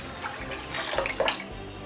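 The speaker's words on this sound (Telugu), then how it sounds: "వాటర్ పోసేస్తున్నాను." Water is poured from a cup into a pressure cooker on a stove to boil sago, a splashing, gurgling stream that runs continuously for about two seconds at moderate loudness with no talking.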